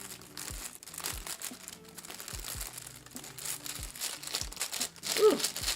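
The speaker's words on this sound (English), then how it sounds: "Let's remove the paper and let me bring it closer." Packing paper crinkles and rustles softly while a Chanel medium classic flap bag replica is unboxed, with quiet, irregular crackles, light tearing and occasional small thumps up close.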